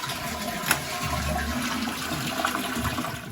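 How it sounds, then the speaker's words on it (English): A newly fitted toilet cistern flushes in a bathroom, a loud, close, continuous rush and gurgle of water filling the bowl throughout. "So we got the new cistern in, connected up, just testing it."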